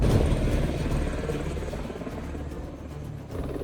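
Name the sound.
helicopter coming in to land at forest camp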